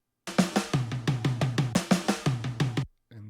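A steady run of about fourteen punchy, gritty drum hits in an even rhythm, run through an amplifier plugin in Logic, sounding saturated and lo-fi, ending abruptly before a faint trailing hit.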